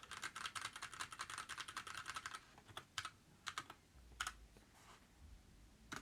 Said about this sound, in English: This keyboard that I have right here, it is Bluetooth, meaning I can type on it like this.